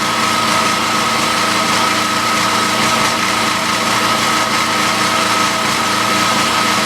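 A faulty generator's small engine runs steadily and loudly with a buzzy, slightly uneven rough idle and no pauses.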